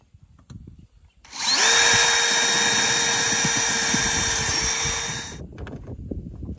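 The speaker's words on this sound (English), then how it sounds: "I'll drill holes for the other three" A power drill bores holes for a wind vane mount, one sustained whining run of about four seconds with a steady motor pitch, close and loud, starting and stopping abruptly.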